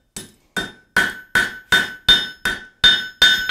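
Hammer flattening a hot forged steel J hook on an anvil, eight loud, evenly spaced ringing metallic strikes, close and alone.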